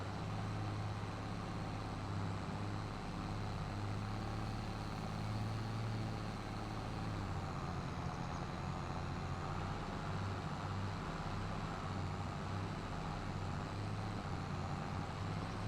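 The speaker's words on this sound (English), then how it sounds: "Red tractor barely makes it up the hill" A red tractor in the video game Farming Simulator labours uphill, its engine droning as a steady low hum at constant level throughout, with no talk over it.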